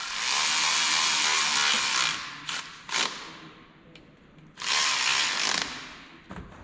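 Bolts being tightened on an NP205 transfer case, long close bursts of ratcheting or power-tool whirring with short clicks and knocks between them, loud and alone without talk.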